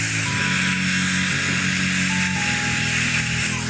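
A small handheld electric air blower whirs loudly and close, a steady motor hum with pitch shifts as speed settings change, no talk over it.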